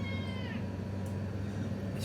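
A cat meows. A short rising call comes near the start, faint against a steady low background hum, and no other calls follow.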